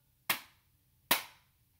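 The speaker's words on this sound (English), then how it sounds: "we're going to clap when we get to letter I instead of saying that letter" Two sharp, close hand claps replace the letter I while singing the Bingo song, evenly spaced about eight-tenths of a second apart with near silence between them.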